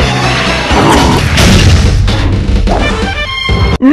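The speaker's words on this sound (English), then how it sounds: "Shotgun." Loud, dense gunfire and explosive booms fill the Metal Slug Commander battle, with a steady wash of weapon blasts and crashes over continuous game music.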